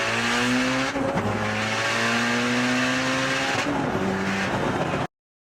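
A 900 whp Mitsubishi Evo X accelerates hard, its engine loud and close, climbing in pitch through rapid gear changes with a tire squeal mixed in, cutting off abruptly.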